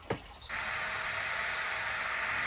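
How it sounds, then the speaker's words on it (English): A brief click, then a power drill spins up and whirs at a steady high pitch, close by, drilling holes in wood. "now you're even letting him drill your holes"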